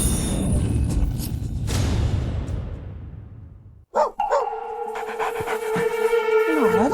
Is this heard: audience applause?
no